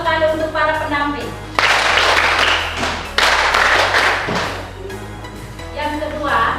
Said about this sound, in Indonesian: Tepuk tangan pendidikan 2 kali untuk para pendamping.